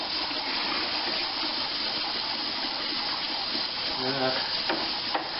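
Water runs steadily into a beer fermenter to top a homebrew kit batch up to volume, a continuous close hissing gush with a brief voice under it near the end.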